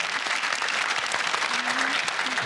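Studio audience applauding on a game show, a dense, steady wash of clapping at close range that holds for a couple of seconds.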